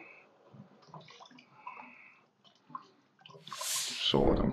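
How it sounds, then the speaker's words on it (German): Broth pours into a pan of peppers at the end, a sudden gushing, splashing rush of liquid after a stretch of quiet kitchen clatter. "Und dann gieße ich die restliche Brühe auf."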